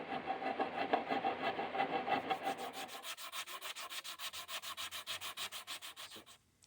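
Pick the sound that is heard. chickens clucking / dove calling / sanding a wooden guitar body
sanding a wooden guitar body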